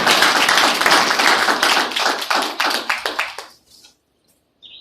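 A small group claps hands in a quick, uneven burst of sharp slaps that thins to a few final claps and then stops.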